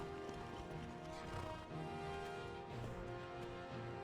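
Horse hooves clip-clop in Skyrim, a steady, moderately loud trotting rhythm over a bed of game ambience and music, with no talking.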